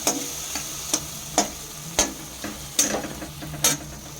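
A spoon stirring and scraping through chilli powder, turmeric, tomato and salt in a pan, with regular sharp clinks against the metal over a soft sizzle, close and alone.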